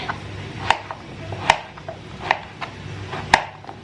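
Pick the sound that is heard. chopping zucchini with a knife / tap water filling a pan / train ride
chopping zucchini with a knife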